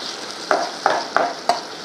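A spoon stirs chicken gravy with spices frying in oil after the lid comes off, giving four distinct scraping strokes at a steady pace over a soft continuous sizzle, close and fairly loud, with no talking.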